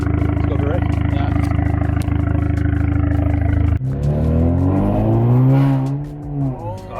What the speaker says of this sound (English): you hear the turbo louder. Yeah. Like out of the exhaust area.